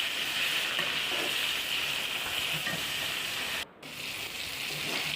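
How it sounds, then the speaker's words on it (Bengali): Rohu fish frying in hot oil in a wok, a loud steady sizzle running throughout with only a brief dip near the end. "মাছগুলো এক পিঠ ভাজা হয়ে গেছে, আমি আরেক পিঠ ভেজে নেব"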